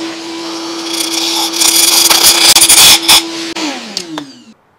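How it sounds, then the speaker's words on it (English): Compressed air blasts drill chips from a head bolt hole in a Kia/Hyundai engine block while a shop vacuum runs close by with a steady loud drone, the hiss surging in irregular bursts before both wind down. "slowly put a bit of air pressure on here, but have the vacuum here as well, just to grab all those chips as they fly out."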